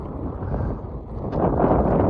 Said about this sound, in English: Very windy, so you might not be able to hear me.